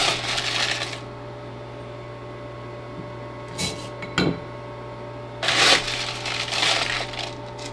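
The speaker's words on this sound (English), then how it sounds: "Scoop out some ice." Nugget ice from a Joy Pebble countertop ice maker is scooped into a glass, with loud rattling, crunching bursts at the start and end and a few brief clinks between, over a steady machine hum.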